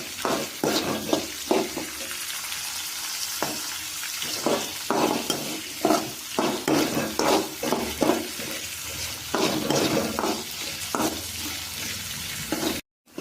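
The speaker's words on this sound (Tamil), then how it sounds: "இது என்னென்னா கொஞ்சம் நேரம் எண்ணெயிலே வதக்கணும்." Chopped beans and carrots sautéing in oil for rava upma, a continuous close sizzle punctuated by repeated scraping and clanking of a spoon stirring against the pan, ending in a sudden cut to silence.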